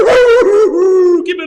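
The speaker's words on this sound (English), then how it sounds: "Every time that dog sipped that water out and put a little wine in, he howled just like Uncle Duke used to." A dog howls close by in one long, loud, wavering note that dips and holds, with a short yip-like break near the end.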